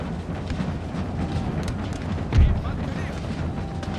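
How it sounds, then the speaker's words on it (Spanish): Cannon fire from an artillery battery in Empire: Total War, a single deep boom rising out of a dense, constant wash of battle noise, moderately loud and fairly distant. "La artillería está dando de lo suyo ya por allí"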